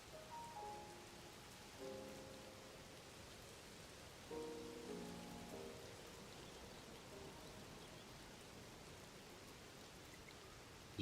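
Steady rain falls in The Legend of Zelda: Tears of the Kingdom, a soft continuous patter on surfaces, faint and even, with brief game melody tones drifting over it.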